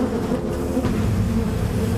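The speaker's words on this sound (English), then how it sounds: "The bad-tempered bees don't give up even when the intruder is driven away." Angry killer bees keep swarming after an intruder has been driven away, making a dense, continuous low buzzing hum with no pauses.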